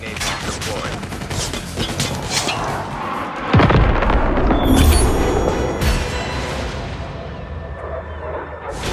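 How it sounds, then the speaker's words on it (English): Napalm strike explosions in the Call of Duty Mobile video game arrive as heavy, rumbling booms and rolling blasts layered over steady gunfire and game noise, with a big impact hitting around midway. "Friendly napalm deployed."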